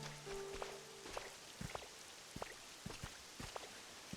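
Rain falling in the video game Pokopia, a soft steady patter of drops with scattered sharper taps spread evenly through the scene at low volume, with no talking.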